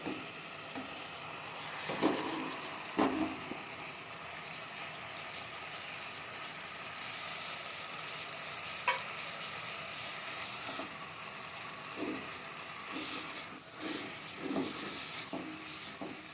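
Dry spices sizzle in hot oil in a pan while cooking egg keema masoor pulao, a steady soft frying hiss with a few stirring clinks and scrapes scattered through, close and fairly quiet, no speech.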